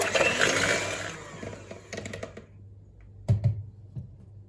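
An electric mixer whirs loudly while beating eggs and sugar for pancakes, then cuts off, leaving a few scattered knocks and clicks nearby.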